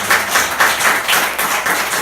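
A church congregation applauds during a sermon, a steady crackling wash of many hands clapping at once, fairly loud and close, with slight surges in intensity throughout.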